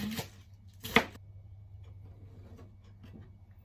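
Knife cutting through onion on a cutting board, two crisp chopping strikes close together near the start followed by fainter taps, no talking.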